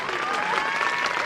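Applause from the audience at a high school Republic Day function, a steady, even wash of clapping from many hands that fills the whole short moment without pause.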